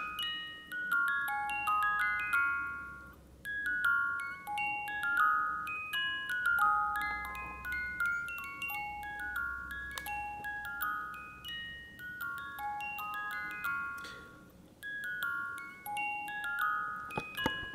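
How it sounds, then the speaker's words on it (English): A Reuge Boegli musical alarm wristwatch plays Mozart's Magic Flute as a tinny, repeating high-pitched beeping melody in short phrases with brief pauses, faint and alone over a quiet background. "I'm going to advance the time so we can hear the alarm and watch it play."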